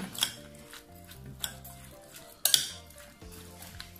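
Quiet stirring of a fish sauce with vegetable oil, tomato and onion in a pan for braised sole, with soft scrapes, a couple of sharp utensil clinks against the pan and faint sizzling.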